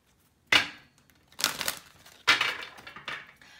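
Cards being shuffled: several quick riffling bursts of papery flutter, each lasting under a second, with short pauses between them.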